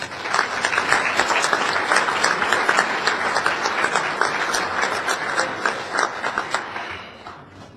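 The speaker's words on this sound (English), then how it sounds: "Round of applause for these coaches." Sustained crowd applause at an Indiana high school baseball coaches' Hall of Fame induction ceremony at the Sheraton Indianapolis, loud and steady with dense clapping throughout, fading slightly near the end.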